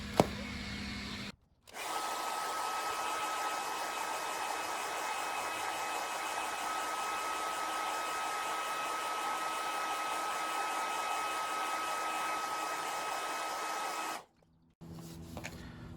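A hair dryer blows hot air onto the adhesive of a Mini Cooper SE car badge, a steady close whooshing hum with a thin whine, running unbroken for about twelve seconds between brief pauses.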